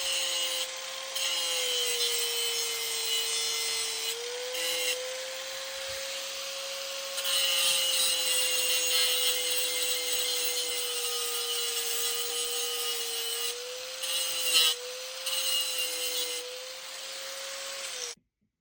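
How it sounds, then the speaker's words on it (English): An angle grinder fitted with a cutoff wheel slices through metal, holding a steady high-pitched whine with a loud, harsh, continuous grinding edge. A few brief dips come where the cut eases, and the noise stops abruptly at the end. "the grinder won't cut the carbide, but it cuts the metal"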